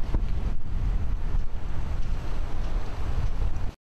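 Sea swell and waves wash around a small boat during sailing practice. A loud, steady roar of water and wind buffets the microphone for nearly four seconds before cutting abruptly to silence.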